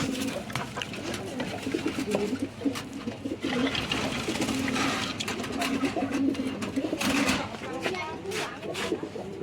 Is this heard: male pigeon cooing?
yes